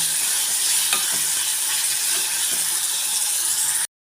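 Tomato and garlic stirred in a hot pan, a steady close sizzle with a few scraping strokes of a spoon, then a sudden cut to silence near the end.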